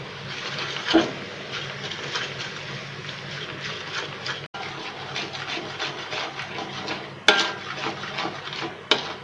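Fried peanuts being stirred into a butter and sugar mixture in a pan, scraping and clinking of the utensil against the pan with a few sharper knocks, close and continuous.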